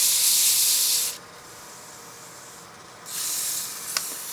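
Fine 320-grit sandpaper rubs against turned wood spinning on a lathe, making a bright, airy hiss that drops away in the middle, then returns for a second pass, close and unaccompanied by talk.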